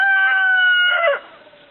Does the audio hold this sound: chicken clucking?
yes